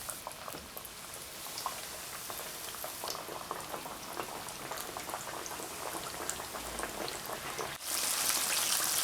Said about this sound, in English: Our fish has been frying for about 3 minutes.